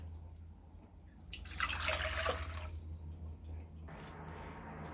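Filtered water poured into a measuring cup for pickle brine, a quiet splashing stream that swells for about a second, pauses, then resumes more softly, with faint kitchen hum underneath.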